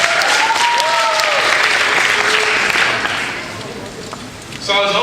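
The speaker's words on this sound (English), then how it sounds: "Give yourselves a round of applause." Loud audience applause fills a university event hall, dense steady clapping that fades somewhat toward the end, with a voice briefly audible over it.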